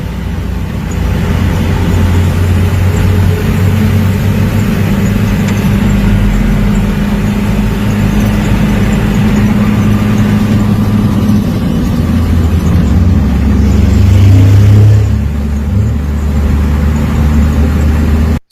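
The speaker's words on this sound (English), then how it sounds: "So look at all these trucks" Brazilian army trucks roll toward the Venezuela border, a continuous deep engine rumble and road noise that grows slightly louder near the end, heard without speech.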